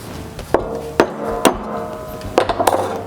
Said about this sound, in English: So I'm going to punch a little hole there.